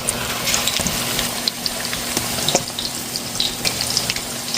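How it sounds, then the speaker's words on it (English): Jerk BBQ meatballs sizzle and crackle in a frying pan, a steady dense hiss with scattered pops throughout, fairly close and without any talking. "I'm gonna take your time and fry them, guys."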